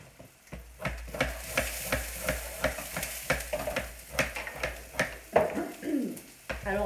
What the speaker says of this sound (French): Alors je vais remuer quand même comme devant avant que ça crame.